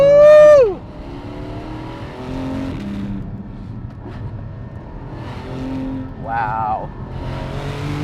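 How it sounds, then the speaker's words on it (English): A Porsche 718 GT4 sports car accelerating hard, with a loud, rising engine wail in the first second that then fades to a lower, steadier drone under people talking. "my buddy Andrew decided to join me, and he's renting this GT4"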